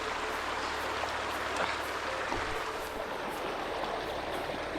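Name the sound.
flowing mountain creek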